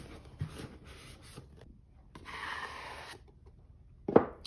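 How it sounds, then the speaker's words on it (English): Box packaging for an Alcatel Go Flip 4 flip phone being cut open with a blade: soft scraping and rubbing strokes, a longer rasping slice in the middle, then a sharp close snap near the end, no talking. "we'll go ahead and cut it open here"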